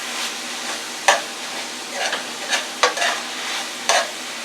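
A heaping tablespoon of garlic is stirred into lean ground meat in a frying pan, a soft sizzle running underneath while a utensil scrapes the pan in several short, irregular strokes.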